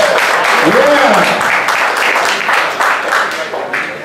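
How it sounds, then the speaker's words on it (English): Crowd applause at a Muay Thai fight event, loud dense clapping and cheering that fills the space, with an announcer's voice heard over it. "Give the ladies a big round of applause."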